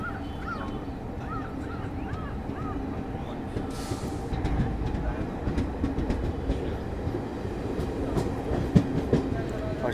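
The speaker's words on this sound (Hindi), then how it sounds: "सिर्फ 2 मिनट की ट्रेन यहाँ पे रुकी और डिपार्चर जो है वो हो गया अपना" A Garib Rath Express train pulls out of Shahjahanpur junction station with a steady rumble and rhythmic wheel clatter on the rails, close by, while a few faint background voices and birds are heard.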